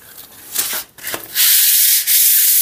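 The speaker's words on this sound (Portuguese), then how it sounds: "Agora eu vou vir lixar aqui essa parte de cá" Sandpaper rubs over a wall of old, flaking plaster and skim coat being prepared for painting, a close, dry scraping that comes in short strokes and then turns into a continuous loud rasp.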